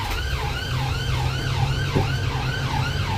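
An ambulance siren wails in a repeating rising-and-falling pattern, loud and close, with about four smooth sweeps over a low road rumble and no speech.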